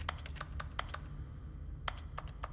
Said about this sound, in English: if I just like left click, it makes like keyboard sounds.